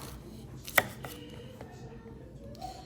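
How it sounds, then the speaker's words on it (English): A knife chops a cucumber on a board in a home kitchen, one sharp close knock followed by a few softer cuts, fairly quiet, with no talking. "what I'm gonna do right now is I'm gonna cut up a cucumber for her"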